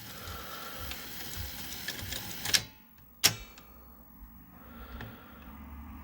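Toshiba V8600 VCR tape mechanism clicking and whirring during eject, with two sharp mechanical clacks between soft motor and gear ticking, close and fairly quiet.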